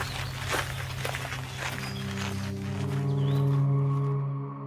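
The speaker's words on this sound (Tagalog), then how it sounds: "nang marinig nila ang mga yabag papalapit sa kinaroroonan nila" Footsteps in a narrated Filipino aswang horror story tread steadily through a dense, rumbling ambient bed that swells toward the end.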